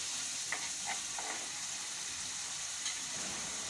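Roasted gram flour (besan) fries lightly in a pan for bedmi poori, giving a faint, steady sizzling hiss with a few soft scraping taps of the spoon.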